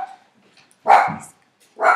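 Dogs barking loudly nearby, two sharp bursts separated by a short pause, with near silence before and between them.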